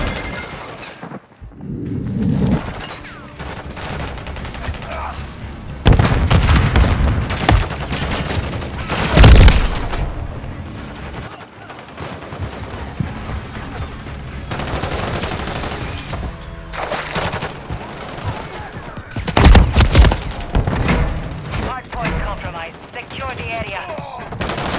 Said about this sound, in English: Taking rounds!